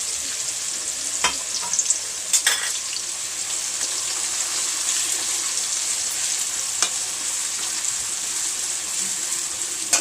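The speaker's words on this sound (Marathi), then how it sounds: "कांदा चांगला फ्राय करून घ्यायचा." Chopped onion frying in hot oil for a veg biryani, a steady loud sizzle throughout with a few brief clatters of stirring near the start and middle.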